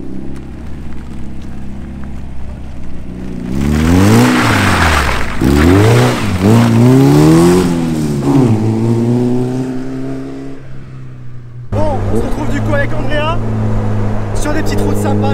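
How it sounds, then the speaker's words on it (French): A Caterham Super Seven 1600K roadster's four-cylinder engine idles, then revs and accelerates hard through several gears with rising and falling pitch sweeps, drops back, and picks up again, close and loud with someone talking at times. "tu as une sonorité qui est quand même bien présente avec ce 4 cylindres"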